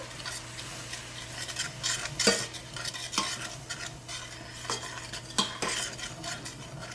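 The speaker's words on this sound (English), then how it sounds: "I'm adding the flour, and I'm just going to stir that all around" Flour being stirred into butter and shrimp drippings in a pan for a roux, with quiet sizzling under repeated clinks and scrapes of a metal utensil against the pan, close but soft.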